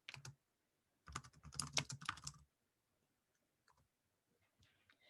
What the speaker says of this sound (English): I'm just going to type in my listing address here.